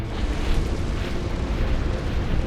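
Lava flare-up erupting in the video game Dungeon Siege 3, a loud, dense rumbling roar with bursting crackles that fills the whole moment without a break.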